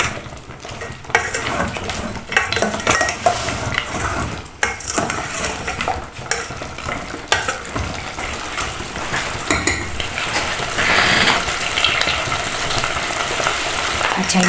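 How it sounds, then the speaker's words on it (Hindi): Chicken legs fry in oil in a pan, a loud, steady sizzle broken by repeated clanks and scrapes of a utensil stirring against the metal. "इसको थोड़ा सा फ्राई करेंगे ऑयल में।"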